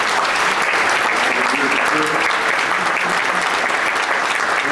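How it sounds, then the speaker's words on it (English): Audience at a university presidential installation ceremony breaks into loud, sustained applause, a dense wash of many hands clapping steadily throughout. "We can have a round of applause for all those folks."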